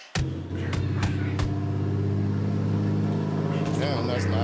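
A loud car roars close by with a heavy, steady engine rumble that holds for several seconds, broken by a few sharp knocks, while a voice talks over the noise near the end.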